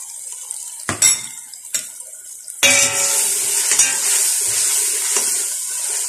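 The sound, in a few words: meat being added to pot and stirred for kaddu gosht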